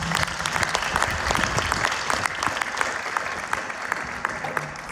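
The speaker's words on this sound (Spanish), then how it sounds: "Un fuerte aplauso, por favor" An audience at a book presentation in Zacatecas gives a strong round of applause, dense clapping sustained evenly throughout and fairly loud, alone without talk.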